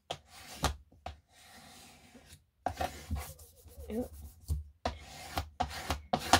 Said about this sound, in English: I'm going to take a sanding block to it